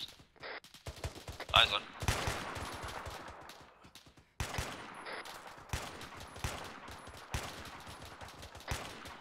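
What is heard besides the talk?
grenade fire in video game ArmA 3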